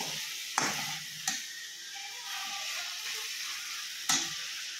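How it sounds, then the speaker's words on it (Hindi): Garlic sizzles and fries in a pan on a gas stove, a steady hiss throughout with a few sharp clicks and crackles standing out. "लहसुन डाल दिया है ऊपर से, 2 मिनट के लिए इसको ऐसे पकने देते हैं।"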